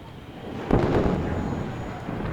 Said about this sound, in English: Nice bombing run for my opponent.